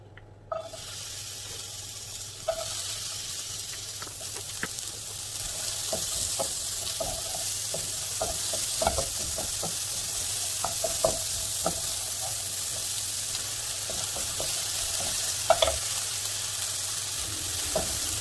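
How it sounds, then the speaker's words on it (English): Onion sizzling in a small amount of oil in a pan for potatoes and ground beef, a steady crackling fry with scattered sharper pops and stirring clicks, close and continuous with no talking. "I'm gonna add a little oil, just a little, like that, not a lot, and take the onion."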